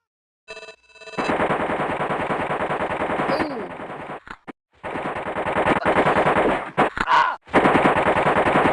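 AK rifle fire in the video game Pathways Into Darkness: loud, rapid automatic bursts with a few short pauses and brief gaps between volleys.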